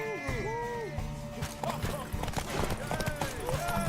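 A horse gallops with steady clip-clop hooves in The Witcher 3 during a race to a tower at dawn, under in-game voices, music and a whinny.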